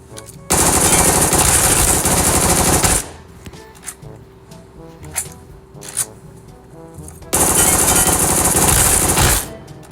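Automatic gunfire from a gun in the mobile shooter PUBG Mobile, two long loud sustained bursts separated by a quieter gap with a few faint single clicks and pops, close and without talk.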